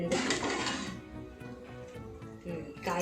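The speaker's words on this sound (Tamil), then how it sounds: "இப்போ நம்ம தட்டை ஓப்பன் பண்ணி பார்க்கலாம்" A plate set as a lid on a pan of vegetables for rava kichdi is lifted off, giving a brief metallic clatter and scrape followed by quieter clinks, with a voice faintly under it.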